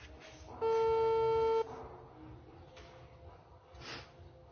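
A steady telephone busy tone sounds once for under a second, loud and clean, as a call fails to connect, followed by faint line noise.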